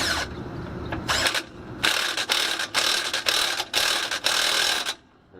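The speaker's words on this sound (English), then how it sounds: "where's my big ratchet? There it is." A big ratchet wrench cranks on a part of a 1967 Buick, loud and close, in several quick bursts of clicking separated by brief pauses, ending in silence.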